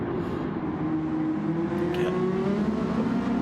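Race cars in a sim racing league at Suzuka, including Porsches, drone past in a video game, with engines whining and shifting pitch in a continuous close mechanical roar.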